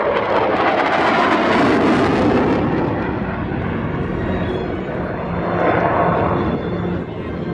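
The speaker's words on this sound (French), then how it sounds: "Et nous allons assister à une remise de gaz avec une grosse différence de vitesse entre les deux appareils." Loud, continuous roar of jet engine and rushing air as a Mirage 2000-C fighter and an Epsilon trainer perform a go-around at an air show in Meaux-Esbly, swelling and fading as they pass.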